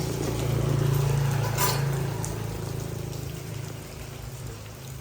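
Steady rain patters continuously over a low droning hum, the wash of water constant and fairly loud without any voices.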